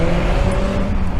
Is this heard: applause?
no